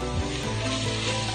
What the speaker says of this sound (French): On touille.